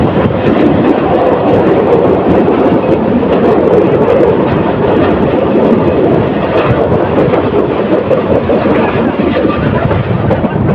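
Parabot Express train speeding past Saji Bazar railway station, an old station on the Dhaka to Sylhet line, with a loud, continuous rumbling roar of wheels and carriages sustained close by throughout.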